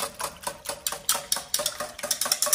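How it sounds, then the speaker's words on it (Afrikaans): Eggs and buttermilk being whisked together in a small container: a quick, steady run of light clinking strokes against the sides, close by and regular, with no talking. "En ons klits dit lekker saam."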